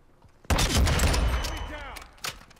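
Gunfire in Call of Duty: Modern Warfare multiplayer: a sharp loud burst of shots opens, followed by a decaying rumble and one more short crack near the end.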